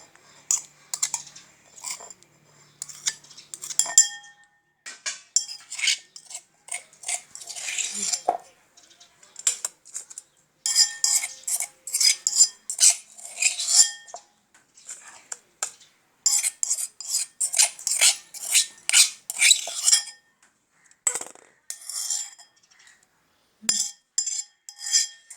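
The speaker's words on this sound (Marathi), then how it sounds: "आता ती एका भांड्यात काढून घ्यायची आहे" Green chilli chutney is spooned into a bowl: bursts of sharp metal utensil clinks and scrapes come in quick irregular clusters, separated by short silent pauses, close and fairly loud.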